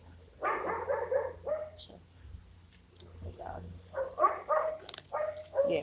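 A puppy barks and yips in short bursts, fairly close, interleaved with someone talking over a low steady hum.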